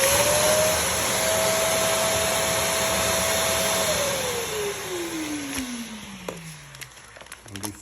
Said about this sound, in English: I'm going to suck as much of the air as I can out of this bag using my shop vac here